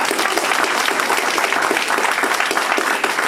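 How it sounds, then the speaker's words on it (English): A large crowd applauds the panelists at the close of a software-defined vehicles panel at SDV Social 2024, a dense, loud, even roar of clapping that holds throughout. "Let's give them a round of applause."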